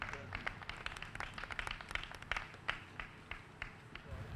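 Audience applause at a St. Louis press conference on funding for Better Family Life, Inc., heard as a steady patter of hand claps from a crowd, moderately distant and lasting throughout.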